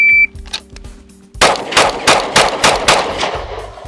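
Rapid string of gunshots fired on a USPSA shooting stage, opened by a shrill electronic shot timer beep, then about eight loud, close, evenly spaced cracks with no talk over them.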